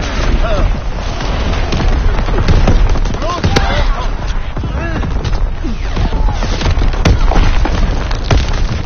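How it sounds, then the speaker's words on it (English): Naval primary battery guns fire in a WWII video game, with repeated heavy booms and rolling gunfire cracking over a continuous dense battle din; a voice talks over the barrage. "Firing primary battery."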